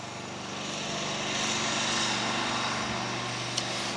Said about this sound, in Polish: niech traktor może przejedzie, bo on będzie bardzo głośno tutaj teraz furczał